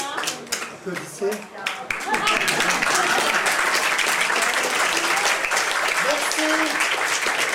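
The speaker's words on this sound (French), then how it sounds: "Applaudissez." Audience applause at a café gathering, starting with a few scattered claps after a spoken word and swelling into dense, steady clapping for the rest; someone speaks briefly near the start.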